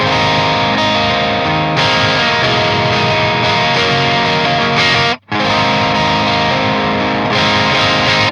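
An electric guitar plays through an amp with light, lower-gain overdrive, gain set at about 9 o'clock, chords ringing steadily and loudly with one short pause partway through.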